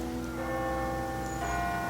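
Church bells ring at a memorial ceremony for victims of the Holodomor famines, giving a sustained, humming tone with layered overtones that holds steady and fairly loud throughout, with no voices.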